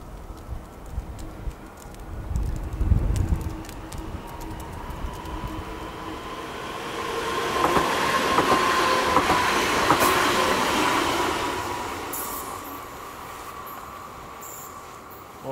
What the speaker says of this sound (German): Im Bahnhof Jossa verlässt jetzt gerade die RB nach Schlüchtern.